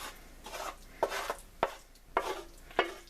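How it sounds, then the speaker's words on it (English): Vegetarian pot pie filling being spooned into a pie dish, a rhythmic series of close scraping and clinking spoon strokes with soft wet thuds in between. "now I'm going to fill the pie with the rest of the pot pie filling"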